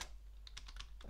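Quick, light keystrokes on a computer keyboard while a terminal command is entered on a Linux Debian system, a rapid irregular string of soft clicks, close and fairly quiet, with no talk.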